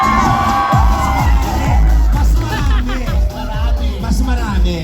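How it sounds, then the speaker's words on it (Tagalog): An audience at an emcee-hosted event claps and shouts, a loud continuous crowd roar with rhythmic clapping and cheers throughout. "Magpalakpakan po na may kasamang hiyaw"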